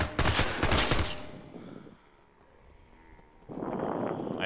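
Rapid gunfire bursts ring out in the zombie video game Zomday, a loud volley of shots, a short lull, then another burst of firing.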